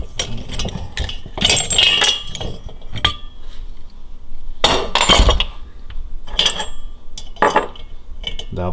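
A valve spring compressor works on a Porsche 912 cylinder head, giving repeated sharp metallic clinks and clanks in irregular bursts, close up, with quieter gaps between.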